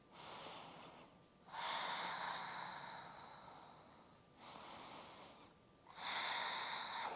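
A person breathing audibly during a warrior 3 yoga pose with eagle arms, taking two full breath cycles, each a long, close airy inhale then exhale, with brief pauses between and no talking.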